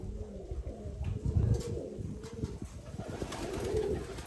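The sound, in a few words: young pigeons cooing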